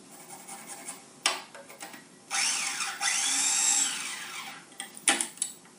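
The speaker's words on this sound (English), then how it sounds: "I grate some ginger in" Fresh ginger rubbed against a grater in a kitchen, heard as bursts of close, bright scraping strokes, some short and some drawn out, with no talk over them.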